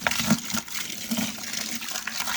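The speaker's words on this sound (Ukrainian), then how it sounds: "10 літрів води. Це відро я думаю, на 20 літрів. Добавимо пів відра." Water gushes and splashes into a roughly 20-litre bucket holding wood ash, a steady close pour with uneven surges and no talk, while preparing a feed for grapevines.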